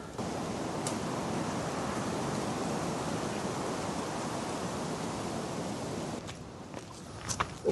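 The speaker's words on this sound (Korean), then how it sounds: "지금 바람이 엄청 불어" Strong wind gusts roar steadily on a cold mountain trail in sub-zero conditions, a loud broadband rush that eases near the end, where a few crunching footsteps come through.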